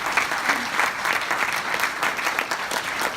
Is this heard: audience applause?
yes